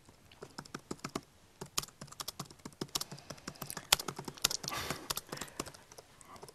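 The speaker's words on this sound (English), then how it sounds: "You're a very fast typer" Fast typing on a computer keyboard during a studio interview: a rapid, uneven stream of quiet key clicks that grows busier toward the end, with no one speaking.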